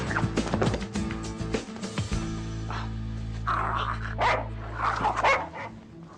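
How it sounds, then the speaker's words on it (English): Dog barking repeatedly outdoors, loud close barks in a quick burst, followed by a sustained droning tone and scattered noise, with no clear talk over it. "I have to catch that dog"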